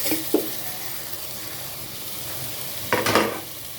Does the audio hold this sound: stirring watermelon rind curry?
yes